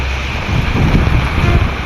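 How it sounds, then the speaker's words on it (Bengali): A heavy rain and strong wind storm roars continuously, a dense, loud wash of wind buffeting the microphone with rain noise underneath and no voices. "প্রচন্ড পরিমাণ বৃষ্টি বাতাসে শুরু হয়ে গেছে"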